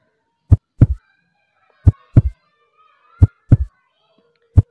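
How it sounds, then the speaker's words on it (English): Heartbeat sound effect made in Filmora 9: three paired thumps, a low lub-dub repeating at a slow, steady rhythm over silence, followed by a lone beat. "Here you can see the heartbeat effect in Filmora 9."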